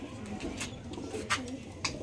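Pigeons at a bird market coo softly in low repeated murmurs, with faint background noise and a few brief sharper sounds over it.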